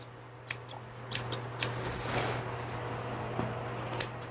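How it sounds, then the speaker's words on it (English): Straight grooming scissors snip the hair of a Bichon-Poodle mix puppy, a handful of crisp, isolated metallic clicks spaced irregularly over a quiet background with a faint steady hum. "Take my straight scissors, lift up her ear"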